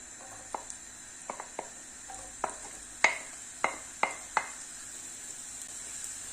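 Onion with green and red peppers sizzle in olive oil in a pan, a quiet steady hiss broken by several sharp scraping stirs and spatula taps against the pan.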